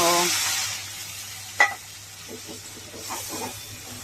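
Bottle gourd and shrimp cook in a pan with a loud hiss and sizzle that fades after the first moment, followed by a sharp stirring knock and softer scraping and bubbling.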